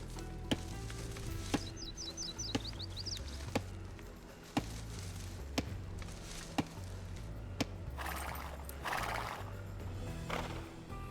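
Scout cavalry horse in Age of Empires II neighs and whinnies over a looping game soundtrack, with sharp clip-clop hoof beats and clicks landing at intervals, all fairly close and clear.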